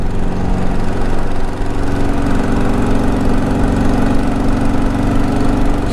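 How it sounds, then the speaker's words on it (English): A carbureted motorcycle engine runs loud and close with the throttle open, a steady buzzing drone with a momentary dip before it climbs on, no voices. "We're not getting that big when I open up the throttle and it just climbs gradually."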